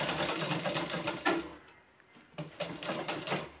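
A sewing machine stitches slowly and carefully in close, rapid clattering runs, dipping briefly quiet in the middle before resuming.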